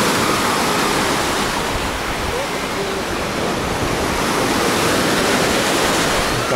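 Sea waves wash steadily onto a beach in the Oba district of Alanya, a continuous broadband rush of surf close by with no distinct individual breakers, lasting the whole stretch.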